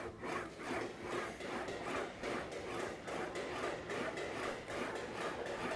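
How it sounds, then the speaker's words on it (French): Flat sheet metal is worked through rollers into a slight curve for a Mustang body, giving a steady, faint rhythmic rasping and rubbing that repeats roughly every half second, with no talking. "Et à rouler la tôle, en lui donnant de légères contraintes."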